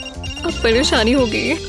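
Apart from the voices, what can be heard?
mobile phone ringtone ringing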